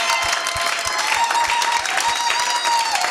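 An audience at a church gathering honouring a pastor applauds loudly, a dense, steady wash of clapping that holds without a break, with a faint sustained tone running underneath.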